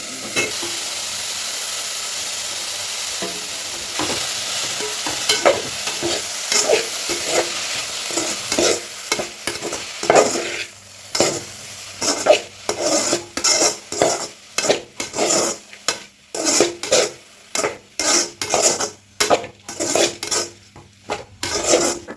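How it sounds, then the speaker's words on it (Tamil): Drumstick leaves tempered in a pan and stir-fried, a spatula scraping and clattering against the metal in quick irregular strokes over a soft background sizzle, growing busier and more percussive toward the end. "இப்போ வந்து முருங்கைக்கீரையை வந்து தாளிச்சாச்சு."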